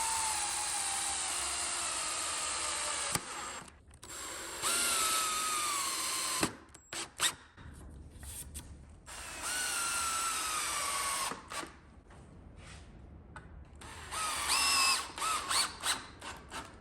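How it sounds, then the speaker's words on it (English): A power drill drives screws into 2x4 lumber while a mobile chicken tractor is built, several loud whirring bursts of a few seconds each broken by short pauses and ratcheting clicks, close up with no talk. "All right, let's screw this one in real quick."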